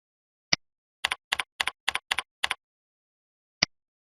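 Keys on a computer keyboard tapped out in quick pairs, an email address being entered: a lone click, then six rapid double-taps in a steady burst, and one final isolated click after a pause. Close, crisp and quiet, with no talking.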